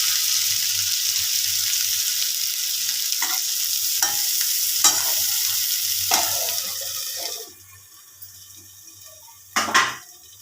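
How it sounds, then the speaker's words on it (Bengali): Pointed gourd and potato curry sautéing in a pan, a steady hiss of frying with occasional spoon scrapes and stirring knocks, fading quieter near the end before a last clatter. "এগুলো দিয়ে ভালোভাবে আরও 1 থেকে 2 মিনিট আমি ঢাকা দিয়ে কষিয়ে নেব"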